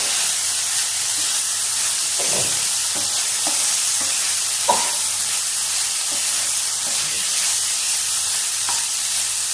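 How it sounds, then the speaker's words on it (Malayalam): A green bean stir-fry, payar mezhukkupuratti, is stirred in a pan over low flame, with a steady close sizzle and hiss and soft irregular scrapes of stirring throughout. "നമുക്ക് ഇളക്കിയെടുക്കാം."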